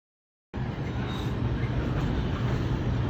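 A Manhattan-bound 2 subway train in the Bronx, New York City, rumbles loudly and steadily after a sudden start, a dense mechanical roar filling the space with no clear pauses.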